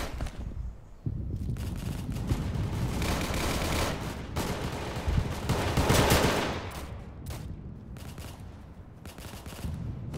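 Sniper and rifle fire in a Vietnam War drama set in 1968, sustained loud bursts of gunfire with heavy rumbling over about ten seconds, no speech.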